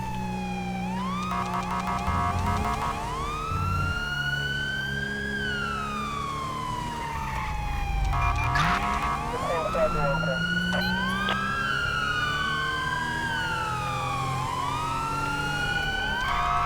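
A video-game LAPD police siren wails and yelps repeatedly, loud and close, sweeping up and down in pitch, with engine rumble underneath.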